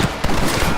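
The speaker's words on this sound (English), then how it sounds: "You man the Gatling gun, Marston!" A Gatling gun fires in the western game Red Dead Redemption, a short, loud, rapid burst of continuous mechanical gunfire.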